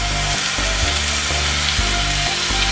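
Vegetables go back into a hot pan of Hekinan-style yakisoba and sizzle loudly and continuously, with rhythmic scraping and stirring strokes of a spatula against the metal cutting through the frying hiss.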